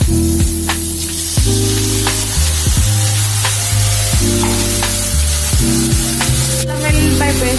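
Tomatoes frying in a pan for a drumstick and tomato curry, giving a loud, steady sizzle with crackles and a few stirring clatters, with no talk over it.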